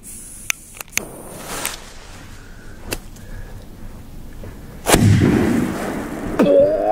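Sharp cracks and snaps at the start, then a loud bang from a Polish D-Böller firecracker about midway that booms and rumbles out before a final crackle.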